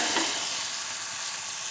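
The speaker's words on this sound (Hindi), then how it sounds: "मैं बैंगन की सब्ज़ी को तड़का लगा लेती हूँ" Steady, bright sizzling of spices hitting hot oil as tempering for an eggplant curry, a continuous crackling hiss with no voices.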